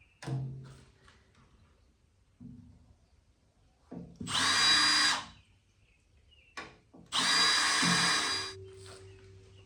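A power drill revs in short bursts, then bores through wood in two long, loud stretches, with brief pauses and handling noises between.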